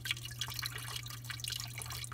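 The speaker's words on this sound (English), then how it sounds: "I'm gonna let that keep going down into this bucket here" Water trickles and drips steadily from an unclogged garbage disposal drain pipe into a bucket, a continuous splashing patter over a low steady hum.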